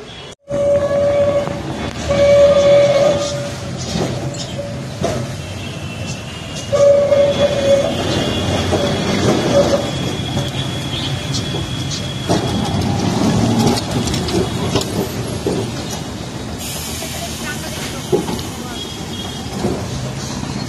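A Kolkata tram rolls along its rails with a steady, loud rumble and rattling of the carriage, joined by intermittent horn-like tones and clanks over about twenty seconds. Faint voices can be heard beneath the noise.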